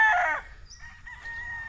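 A gamecock rooster, a young stag, lets out one short, close crow at the start, followed by quieter faint farmyard background.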